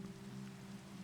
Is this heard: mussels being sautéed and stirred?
no